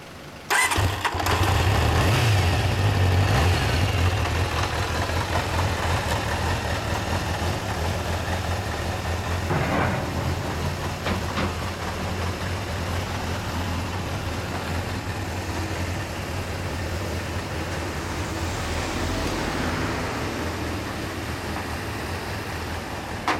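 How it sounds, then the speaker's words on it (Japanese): A 1987 Kawasaki GPZ400R Ninja 400cc motorcycle engine starts with a sharp burst, then settles into a steady, close idle that runs continuously for the rest of the clip, with no talking. "すみません、エンジン音聞かせてもらえますか。"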